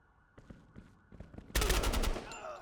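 Gunfire in Door Kickers 2 during a night close-quarters raid: a few sharp, sparse shots at first, then a sudden loud burst of rapid automatic fire that continues to the end.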